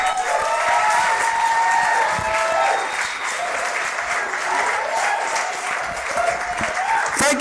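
Sustained audience applause fills a comedy night venue, loud and steady with a little cheering throughout, between acts.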